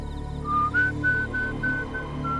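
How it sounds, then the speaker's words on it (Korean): Clear whistled tune of short sustained notes, fairly close and alone, set in a tense hide-and-seek escape scene from a Korean cult-thriller drama, with a low hum underneath. "그건 또 휘파람으로 불어야 돼요."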